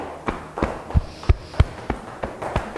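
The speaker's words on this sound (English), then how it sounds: "we're going to tap now down the side of the body" Fingers tap down the side of the body in a gentle self-massage exercise: a steady series of soft, close thumps, roughly one every third of a second, with no talking.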